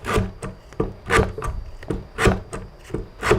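Sandpaper is pulled in repeated strokes across the wooden heel cap of an acoustic guitar neck, making rhythmic raspy scrapes about twice a second, close and clear with no talk.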